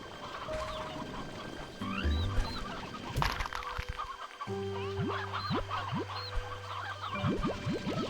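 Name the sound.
chickens (hens) clucking in the video game Slime Rancher 2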